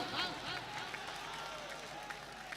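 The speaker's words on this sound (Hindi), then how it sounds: "जोरदार तालियां भाई, वाह।" An audience applauds at a mushaira poetry gathering, scattered clapping and crowd noise heard moderately with a voice speaking over it.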